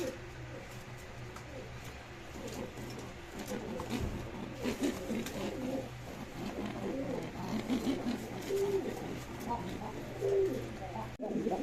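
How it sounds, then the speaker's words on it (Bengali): Pigeons coo softly in low repeated calls, with faint background chatter and rustling throughout. "ভিউয়ার্স এখানে একজোড়া গড়া কবুতর দেখতে পাচ্ছেন আপনারা"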